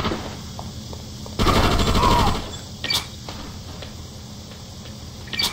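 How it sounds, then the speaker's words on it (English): A rapid burst of automatic gunfire from the video game Just Cause, loud and dense for about a second, followed by scattered single shots and clicks over a quiet background. "Bullets."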